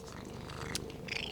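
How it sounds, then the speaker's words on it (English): A male cat purrs steadily while curled up on a lap, a close, low continuous rumble with a couple of faint higher clicks and rustles above it, no talking. "You can probably hear him purring."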